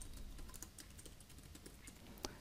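Quiet computer keyboard typing as a company name is entered into a WordPress form, a run of soft, evenly spaced clicks close by.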